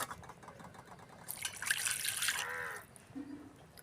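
Water splashes and trickles into a pot for about a second and a half, a close, bright pouring rush that tapers off.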